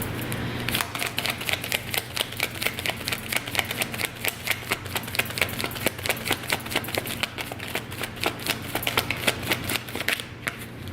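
A deck of tarot cards is shuffled in a fast, continuous riffle of crisp flicks and clicks that lasts throughout, close and fairly loud, with the cards sticking slightly.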